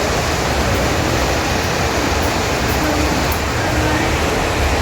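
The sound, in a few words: river flowing below the temple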